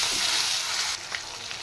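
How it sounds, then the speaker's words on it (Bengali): Fish sizzling in oil in a very hot wok, a steady bright frying hiss that eases off partway through, with occasional small pops and no talk. "এবার আমি মাছগুলো ভেজে নেব।"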